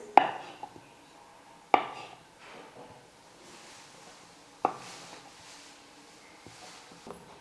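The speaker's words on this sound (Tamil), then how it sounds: "இப்போ சின்ன சின்னதாக கட் பண்ணிக்கலாம்." A knife cuts potatoes into small pieces on a board for a snack recipe, giving a few sharp, isolated chops spaced seconds apart, close and fairly quiet, with no talk.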